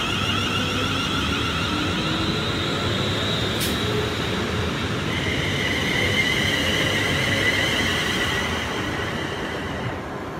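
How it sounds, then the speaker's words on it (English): A Virgin Trains West Coast class 390 passing through Milton Keynes Central station, a steady loud rolling rumble with a high electric whine and wheel hiss throughout, plus a brief sharp squeal midway. "And we have a Virgin Trains West Coast class 390 about to pass through."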